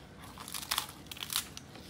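Someone bites into crunchy deep-fried turkey skin, a few sharp crackling crunches clustered in quick succession, close and fairly quiet, with no talking.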